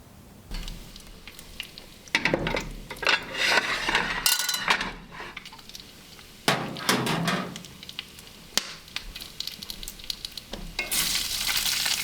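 Bacon and potatoes frying on a wood cookstove: a steady close sizzle and crackle, broken by scraping, clanking pans and utensil knocks as food is shifted around the stovetop.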